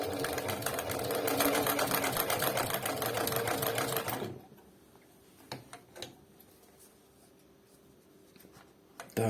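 An industrial Dekor 323 sewing machine for extra-heavy leatherwork runs fast on its smaller belt pulley, a dense rattling whir for about four seconds, then stops, leaving a few faint clicks and taps.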